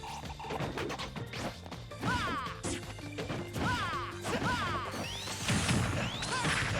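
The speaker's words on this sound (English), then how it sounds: "Looks like Box is trying to get a cheeky smash attack in" Repeated heavy smash hits and whooshing strikes from forward smash attacks in a Super Smash Bros match at a collegiate esports event, landing in quick succession with crashing impacts under faint game music.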